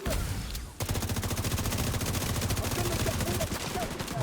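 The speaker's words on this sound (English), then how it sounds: "that's sniper turret" A sniper turret in a video game fires a rapid, continuous stream of loud shots that starts abruptly after a brief lull and keeps a steady rhythm to the end.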